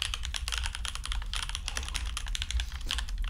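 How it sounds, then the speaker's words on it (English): Fast, clacky keystrokes on a vintage 1990s-style mechanical keyboard, an uneven rapid rhythm of crisp clicks heard close up with no talking. "I think just how good it sounds typing"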